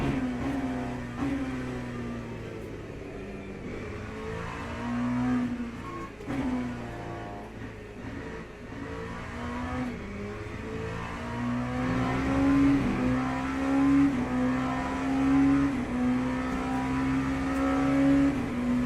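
LMP2 prototype race car engine in Le Mans Ultimate, droning steadily with rising and falling revs through gear changes, loud and continuous without talk.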